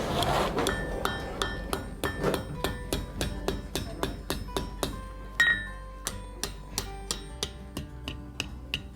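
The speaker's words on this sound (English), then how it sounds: "I'm bringing it out to a point by successively hammering it from the bulk of the material out to the point" A blacksmith hammers red-hot steel out to a point, a steady series of sharp, ringing metallic strikes close by, each blow followed by a brief bright ring, continuing alone with no talk.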